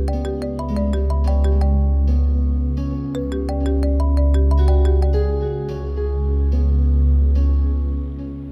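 A melodic mobile phone ringtone plays a repeating tune of bright chiming notes, loud and steady for several seconds over a sustained low hum, with no talking.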